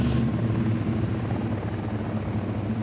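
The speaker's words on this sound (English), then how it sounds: "Chopper inbound." A helicopter arriving in the Ghost Recon Wildlands game, a loud, steady rotor drone with pulsing low thump, close and continuous with no talk.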